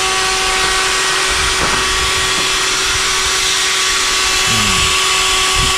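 A wood router cuts during a pigeon loft build, giving off a continuous high-pitched whine over a rough, gritty cutting noise that holds steady and loud throughout, with no voices.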